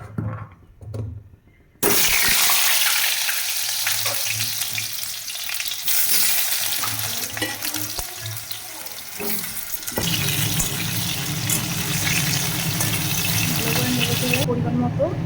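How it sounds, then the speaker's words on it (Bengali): Potatoes frying in a pan give a loud, dense sizzle that swells and continues steadily for most of the stretch, after some brief softer handling noises at the start. "এবার আলুগুলোকে ভালো করে ভেজে নেব।"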